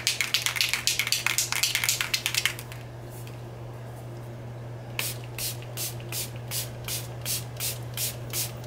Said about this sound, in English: I'm just going to spray this and get it wet with this spray.